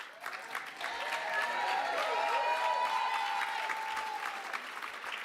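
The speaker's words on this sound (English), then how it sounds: "And you should clap for that." Audience at a conference breaks into sustained applause, swelling to a full, steady round of clapping and then tapering slightly, heard from within a large room with a few cheers.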